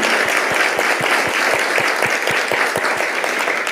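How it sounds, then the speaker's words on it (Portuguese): An audience at a piano duo concert claps loudly and steadily, with a rhythmic pulse of unison clapping running through the dense applause; close and continuous, with no talk over it. "uma salva de palmas, por favor."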